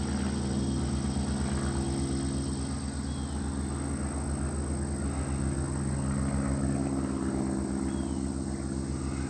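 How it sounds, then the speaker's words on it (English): Steady droning engine hum of small propeller planes, like Piper Cubs, passing overhead, a continuous low rumble with no pauses and no talking. "3 airplanes all going the same direction. Look like not very big planes,"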